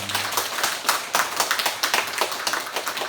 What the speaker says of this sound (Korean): 부활하신 우리 주님을 박수로 한번 영광 돌리겠습니다.